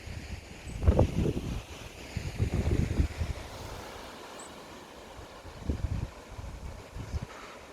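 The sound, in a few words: wind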